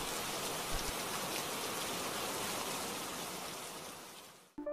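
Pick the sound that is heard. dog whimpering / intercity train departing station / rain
rain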